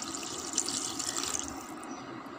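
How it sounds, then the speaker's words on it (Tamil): Water pours into a pan of egg curry masala with a steady hissing splash that fades after a couple of seconds, close and moderately loud, with no talking. "இப்போ இதில் வந்துட்டு நம்ம தண்ணி சேர்த்துடலாம்."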